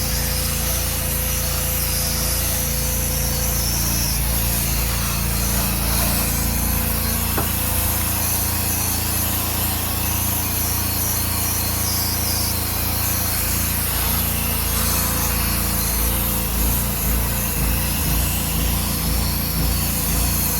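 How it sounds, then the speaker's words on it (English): A small outboard boat motor drones continuously, its pitch rising and falling unevenly as the motor surges up and down for the whole stretch, from a fuel problem. "don't know why that motor's revving up and down like that"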